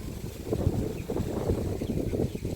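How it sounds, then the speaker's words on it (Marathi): Low, gusty rumbling of wind buffeting the microphone, rising and falling in uneven surges with no voices. "वारा पण सुटलंय"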